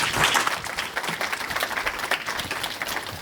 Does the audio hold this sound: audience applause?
yes